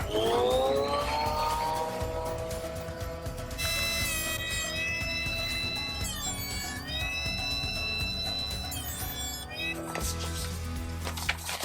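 Thickness planer milling an ash hardwood board down to three-quarters of an inch: a loud, steady mechanical roar with a high whine that runs the whole time, shifting pitch as the board feeds through.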